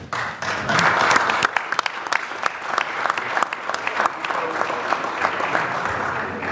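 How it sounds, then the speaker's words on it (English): A roomful of people applauds at a city council meeting as a girls' team and coaches are called up, the clapping sustained and fairly close, with a few loud individual claps and faint crowd noise mixed in. "Let's give one more round of applause to the St."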